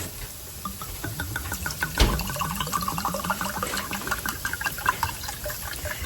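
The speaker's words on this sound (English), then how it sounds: "our cup of wine to deglaze the pan, and then we're going to simmer and reduce that by half" Wine poured into a hot pan to deglaze it, giving a steady liquid pour and bubbling that runs through the whole stretch with no talking.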